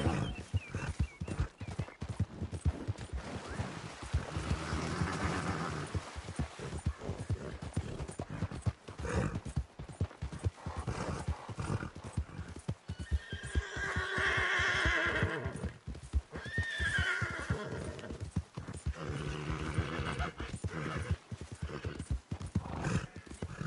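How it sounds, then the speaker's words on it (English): Horse hooves clip-clopping in a steady gait with repeated neighs and whinnies in Red Dead Redemption 2, loud and continuous, with brief faint talk mixed in. "Bitch done buck me off the horse."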